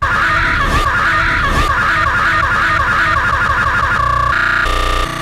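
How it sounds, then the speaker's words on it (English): A loud, harsh, distorted scream from an episode of Batwoman rings out for about four seconds, dense and piercing, then cuts to a brief burst of electronic music effects at the end. "What was with that scream? Can we get that again?"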